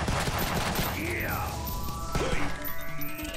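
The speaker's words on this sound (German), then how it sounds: "Ich habe kaum noch Zeit zu schießen." Gunfire while shooting enemies in the side-scrolling action game Huntdown: loud rapid bursts of shots mixed with swooping electronic game effects, dense and continuous throughout.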